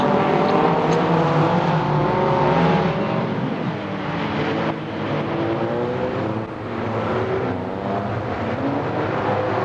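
Race cars on a rolling lap around the track at a motorsport expo, a continuous loud engine drone with several motors overlapping and gently swelling as they pass.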